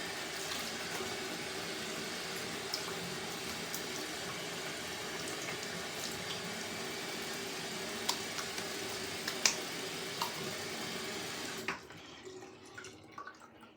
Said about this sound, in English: I'm going to wet the face first.